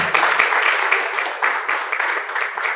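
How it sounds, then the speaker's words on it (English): A panel audience applauds Madam Flora at a forum event, a steady, fairly close wash of many hands clapping that holds evenly for a few seconds. "let's give a round of applause and thank her for her time"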